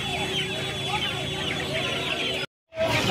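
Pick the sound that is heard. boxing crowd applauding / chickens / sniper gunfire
chickens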